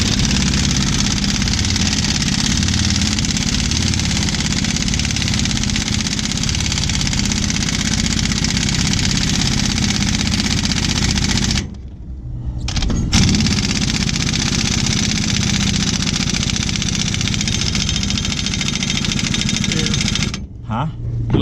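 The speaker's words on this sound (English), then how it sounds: "let the compressor catch up?" An air compressor feeding a half-inch air impact gun runs in a loud, continuous drone during a rear leaf spring install on a 1999-2007 Ford F-250/350, with brief dips near the middle and end.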